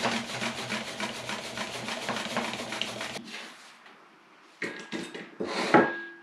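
Knife slicing onions to an even thickness, matching earlier potato slices, for scalloped potatoes with ham: a close, steady run of rapid rasping cuts for about three seconds, then a pause and a few scattered clinks and knocks.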